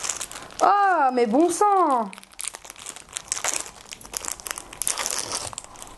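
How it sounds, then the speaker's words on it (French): After a short exclaimed French phrase, the crinkly plastic packaging of bracelets is unwrapped, giving several seconds of close, irregular rustling and crackling. "ça c'est horrible hein, le bruit de déballage"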